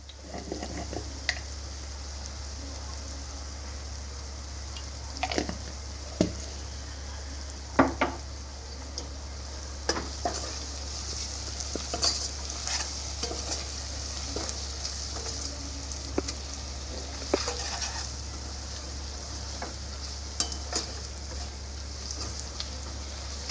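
Turmeric fries with onions in a pan, a soft steady sizzle broken by intermittent clinks and scrapes of a spoon as the mixture is stirred, over a constant low hum.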